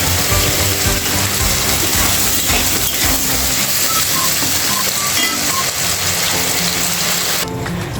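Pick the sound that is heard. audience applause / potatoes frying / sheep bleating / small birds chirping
potatoes frying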